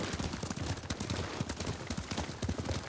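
Horses' hooves clip-clopping in the video game Ghost of Tsushima, a busy, dense patter of hoofbeats from several mounts trotting close by.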